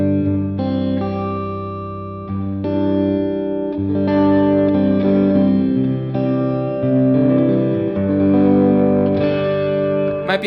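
An electric guitar plays sustained chords through a Sonicake Levitate reverb pedal at about a 50-50 wet-dry blend, each strum ringing out and blending into a lush, washy tail.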